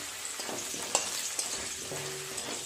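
Steady sizzling of potatoes frying in hot oil, with occasional soft clinks and scrapes of stirring, close and continuous.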